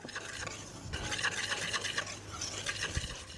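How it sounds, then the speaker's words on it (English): All-purpose flour with baking powder and salt being stirred in a bowl, a close, continuous scraping and rubbing of the utensil through dry mix in uneven strokes, with no voices. "I have 2 cups of flour in here, just all purpose, a half teaspoon of baking powder and a half teaspoon of salt. Just gonna mix it well."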